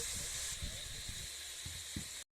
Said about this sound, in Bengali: দেখো আমি কড়াইতে তেল গরম করে দিয়ে দিয়েছি তেলও গরম হয়ে গেছে ভালো করে একটু ভেজে নিচ্ছি